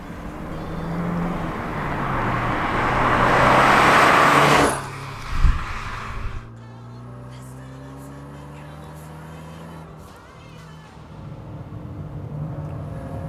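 2019 Fiat 124 Abarth being driven, engine rising to a loud rev then dropping away with a gear change, settling into a steady lower drone and building again, with occasional speech inside the car.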